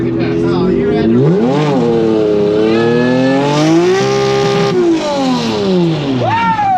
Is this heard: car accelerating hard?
yes